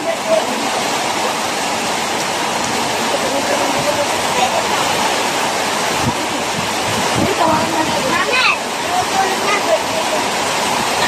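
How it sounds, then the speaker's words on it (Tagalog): Heavy, steady roar of rain and gusting wind fills the whole clip, loud and close, with occasional faint knocks underneath. "Ang lakas ng hangin, no?"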